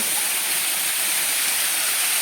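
Byrappa waterfall at Kuruvinakoppa, running low on water after a light rainy season, gives a loud, unbroken broadband rush of falling water heard close and alone.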